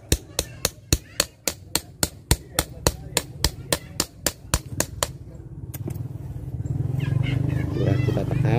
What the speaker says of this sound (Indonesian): Ini belum kepahat sedikit, kita pahat lagi, jangan dipaksakan.